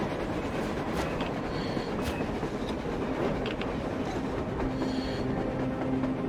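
A train rolls past on the surface in the Metro Exodus video game: a steady, continuous rumble with rhythmic wheel clatter and occasional faint metallic squeals, heard alone without talk.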